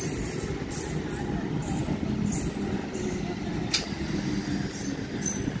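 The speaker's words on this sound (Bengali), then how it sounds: "Up নয়াটি Bandel local train Bandel জংশনের দিকে যাচ্ছে।" An Up Naihati–Bandel local train runs toward Bandel Junction with a steady, heavy rumble of wheels on rail and occasional high metallic squeals, continuous throughout.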